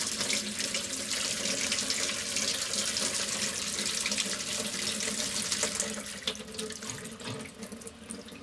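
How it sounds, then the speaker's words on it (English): Water running steadily from a cold water tap into a sink, a close, continuous splashing gush that eases slightly toward the end, with no talking. "eventually the water will come out muddy"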